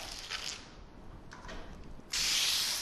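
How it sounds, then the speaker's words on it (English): Window film adhesive sprayed from a bottle during a film install, with short hissing bursts that end in a loud sustained spray, close by and alone. "I want to spray that adhesive to keep it wet and as clean as possible."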